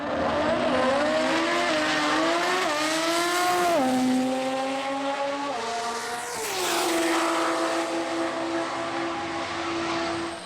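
A Mazda RX3 drag car in the Modified 10.5 class at the Sydney Jamboree roars past with a high, rising engine scream through several gear changes, loud and sustained, fading slightly then building again.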